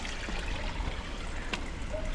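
Water flows along a small channel beside a walking track in Funchal, Madeira, a soft continuous trickling and gurgling close by with a few brief knocks, no talking.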